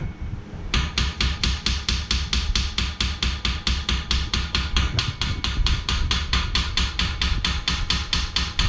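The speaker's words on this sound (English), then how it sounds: "he's hitting it with a hammer so that it could go down and adjust itself" Rapid, steady metallic hammer strikes ring out close by on a 4G63 engine block filled with block filler, dozens of evenly spaced blows repeating without pause.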